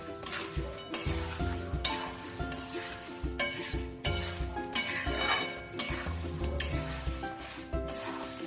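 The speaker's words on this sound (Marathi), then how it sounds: "आता ही फोडणी मी चांगली टोपामध्ये घालून घेते पोह्यांच्या" Tempering (phodni) for thin poha chivda sizzles in hot oil in a pot, a steady crackling fry with stirring and light utensil clinks, close and fairly loud, with background music and no talk.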